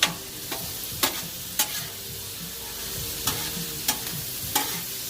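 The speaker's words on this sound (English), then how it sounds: "So cooking the bacon up." Bacon frying on a Blackstone flat-top griddle gives a steady close sizzle, broken by about seven sharp scraping taps of a spatula spaced roughly a second apart; no one talks.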